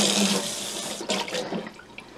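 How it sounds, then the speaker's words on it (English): Water runs from a kitchen tap onto a pan being rinsed, a steady close rush that briefly shifts and splashes as the pan moves under the stream. "I'm going to rinse this pan off."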